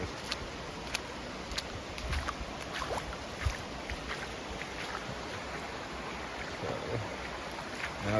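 Creek water spreading wide across a yard after a flood from Hurricane Helene, making a steady, quiet rushing wash with a few faint knocks and splashes, no voices.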